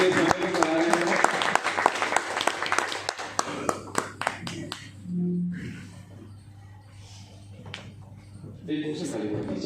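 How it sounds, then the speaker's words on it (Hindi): Audience at a direct selling business meeting in Khacharod applauds a speaker with dense, loud clapping that fades after a few seconds into quieter room noise, a brief voice, and a final flurry of claps. "इनके लिए एक बार जोरदार ताली हो जाए"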